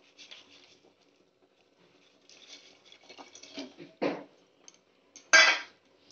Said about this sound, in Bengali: এটা যতক্ষণ না গলে মানে পাটালিটা নরম হয়ে গলে যাচ্ছে আমি একই রকম নাড়তে থাকবো